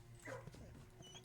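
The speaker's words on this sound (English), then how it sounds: "That's the dog." A faint video-game dog gives a short whimpering yip, a brief quiet canine call over low background hum.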